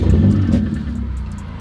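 A Volkswagen Scirocco fitted with a sports cat starts up with a brief loud rumbling flare that settles into a lower, slightly uneven idle, heard up close.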